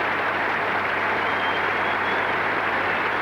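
Cricket crowd at The Oval applauding a batsman's fifty during a 1992 England v Pakistan one-day international, a steady, even wash of clapping that fills the whole moment without voices over it.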